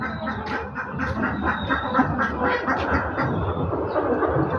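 A flock of domestic native ducks quacking as they eat feed, a dense, busy chorus of overlapping calls and dabbling close by, continuous and without talk.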